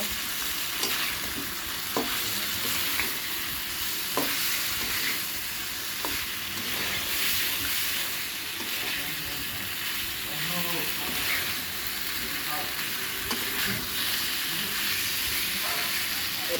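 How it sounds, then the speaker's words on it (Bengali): Ground spice powders, including cumin, coriander, chaat masala and chilli, frying and being stirred in a pan for a vegetable and tengra fish curry. A steady close sizzle with repeated scraping strokes of a spatula runs throughout, with no talk. "সব রকম মশলা মরিচ গুঁড়ো সব দিয়ে দিয়েছি এখন কষিয়ে নেব"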